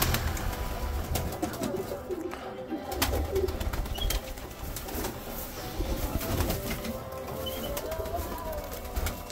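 Birmingham roller pigeons cooing in a loft, soft repeated low coos from several birds with occasional wing flutters, near and moderately loud, with faint background noise.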